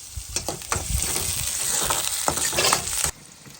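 Oil sizzles and crackles steadily as spices temper in a hot pan, with a few sharp pops and stirring scrapes, then the sizzle cuts off.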